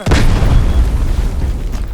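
Explosion in the shooter game Delta Force: a loud, close blast opens the moment, then a long low rumble and crackling debris roll on for nearly two seconds with no other sound over it.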